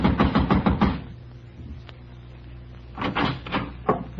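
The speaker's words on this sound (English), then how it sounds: "I walked over and started knocking again." Knuckles rap on an apartment door in two bursts of several quick, loud knocks separated by a pause, heard close in an indoor hallway.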